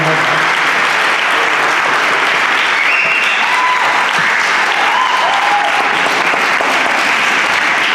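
Attendees at a board of education special session clapping, a loud continuous rush of applause with scattered whoops and voices mixed in throughout.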